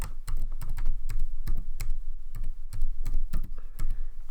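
Fingers tap quickly on a computer keyboard while a file name is entered, giving a close, crisp run of clacking keystrokes in an uneven rhythm with no voices.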